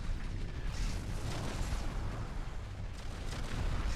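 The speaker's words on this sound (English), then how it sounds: "The explosion effects are great." Booming blasts from the MechAssault mech battle game roll on in a loud, dense, low rumble, bursts layered one over another for the whole stretch, with no voices heard.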